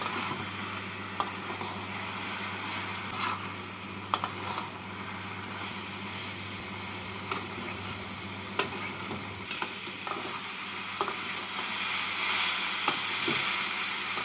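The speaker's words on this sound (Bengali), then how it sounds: "কাঁচা লঙ্কা দিয়ে নাড়াচাড়া করে মূলোর মধ্যে যে জল ভাবটা আছে সেই জল ভাবটাকে শুকিয়ে নেব" Radish with slit green chilies stirred in a hot pan, a steady close sizzle broken by scattered clicks and taps of the spatula against the pan, with no talking.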